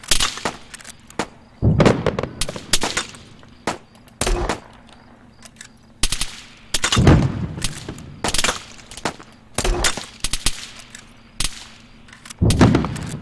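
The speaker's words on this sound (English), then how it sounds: "Some grenades out here" Grenades going off in the military shooter Arma 3, a series of sharp loud blasts with rumbling tails spaced irregularly, mixed with distant gunfire.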